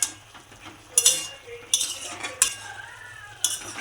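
Pumpkin and potato being stirred and mashed in a pan, with a utensil clinking and scraping against the metal in several sharp knocks over a soft background hiss.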